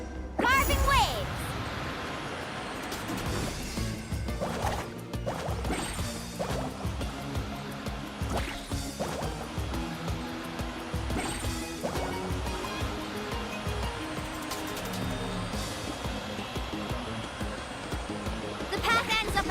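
Water splashing and surging while surfing waves in Genshin Impact, with a dense, continuous wash of spray and crashing surf under game music and effects, plus voices talking over it.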